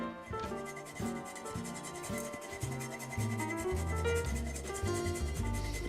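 Whole nutmeg rubbed against a grater to spice homemade rum: a steady, close rasping scrape in repeated even strokes, dense and continuous with no talk.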